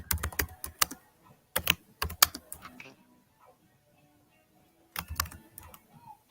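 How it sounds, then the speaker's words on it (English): Fast typing on a computer keyboard, close clusters of sharp key clicks in quick bursts separated by quieter pauses, with no speech. "Who is typing like a crazy person?"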